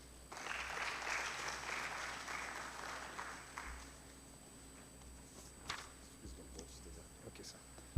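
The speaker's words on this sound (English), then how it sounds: "Give Edgar another round of applause." Audience applause for speaker Edgar at a geopolitics conference in Kampala, a soft, distant patter of clapping that fades after about three seconds into a quiet room with faint murmurs and scattered small sounds.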